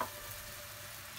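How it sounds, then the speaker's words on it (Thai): Ginger and garlic stir-frying in a hot pan, a steady soft sizzle with no voices, brief and fairly quiet. "เราจะผัดขิงและกระเทียมให้หอมนะคะ"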